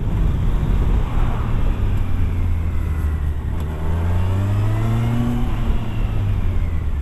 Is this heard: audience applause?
no